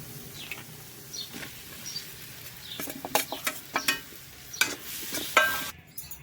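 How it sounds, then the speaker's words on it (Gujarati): A spoon stirs boiled potatoes into a spiced rava kachori filling in a pan, with scattered scraping clinks and soft sizzling that build toward the end, close and fairly quiet. "હવે બધાને સારી રીતના મિક્સ કરી અને આમાં બાફેલા બટેટા આપણા છે એ એકદમ નાખી દેવાના છે"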